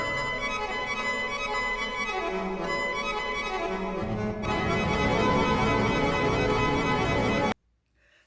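Tiny Little Deformer synthesizer from Gotharman plays a rich harmonic drone from its sample engine, a buzzing sustained tone that shifts pitch midway and grows denser and louder before stopping abruptly, with no talking.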